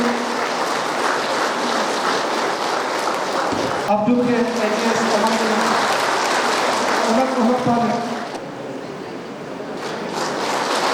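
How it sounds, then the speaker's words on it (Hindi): Loud crowd applause fills a Labour Day celebration in Pasighat, a dense steady roar of clapping that runs throughout while someone speaks over it through an amplified system. "जोरदार तालियां।"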